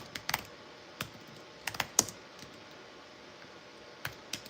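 Someone types on a computer keyboard, sparse clicks and short bursts of keystrokes with pauses between, close and fairly quiet in a still room.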